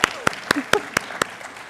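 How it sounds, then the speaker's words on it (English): Sparse, separate hand claps from a small graduation audience for a teacher-preparation cohort, about six sharp claps spread evenly with brief gaps, moderately close, with faint talk underneath. "let's give them a round of applause"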